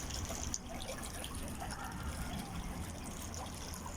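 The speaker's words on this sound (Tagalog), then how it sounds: "Meron sila rito yung jacuzzi." Water running continuously into a jacuzzi at a resort pool area in Riyadh, a steady hiss and trickle heard close up without speech.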